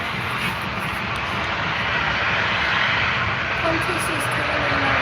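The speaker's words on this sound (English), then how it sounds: "Looks like we've got a 320 coming in from Auckland, New Zealand." A Jetstar Airbus A320 jet arriving from Auckland, New Zealand, gives a continuous broad engine roar that holds steady and close throughout, with voices in the background.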